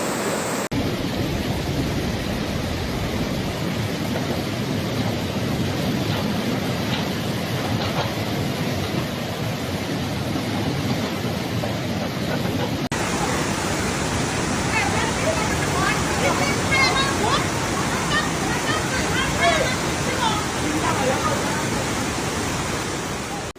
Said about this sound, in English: 现在那个青梅梁园这儿那个桥已经是水早就漫过那个桥了